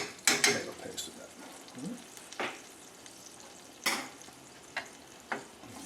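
Tomato paste being stirred into chorizo and diced tomatoes in a pan, with soft sizzling underneath and intermittent scraping strokes and clinks of the utensil against the pan, fairly quiet and close.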